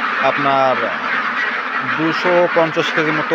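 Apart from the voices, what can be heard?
ducks quacking on a duck farm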